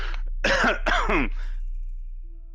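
A single genuine cough, two quick harsh bursts close to the mic, heard during a tabletop roleplaying session of an evil D&D 5e campaign; no speech over it, just quiet room tone afterward.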